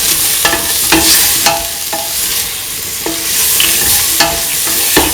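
A spoon stirs garam masala into a potato, ivy gourd and coconut milk stew in a pan, scraping in steady strokes about every half second over a constant loud sizzle.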